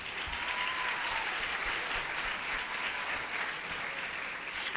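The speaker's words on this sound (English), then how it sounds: "Let's give the young ladies a warm round of applause." A pageant audience applauds steadily for several seconds, with dense, even clapping throughout and no talk over it.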